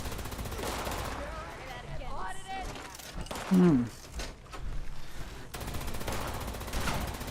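Gunfire in Fallout 76 crackles in bursts through a busy game soundscape, with one louder, low, rough blast near the middle and a steady bed of action noise around it.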